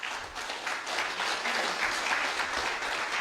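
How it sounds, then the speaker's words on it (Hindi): A classroom of students claps for a fellow student, a dense, steady burst of many hands lasting a few seconds, fairly even in loudness, with no voices over it. "एक बार ताली बजाओ उनके लिए।"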